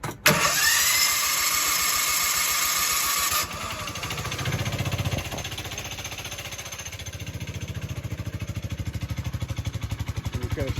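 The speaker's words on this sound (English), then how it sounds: "This thing has been sitting, hasn't started, so this is the hardest it's gonna ever be to start." Grave Digger monster truck's engine cold-starting on full choke after sitting unused: a loud burst of cranking catches into a rough, pulsing idle that settles into a steady, rhythmic loping rumble, close and alone.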